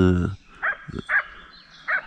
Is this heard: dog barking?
yes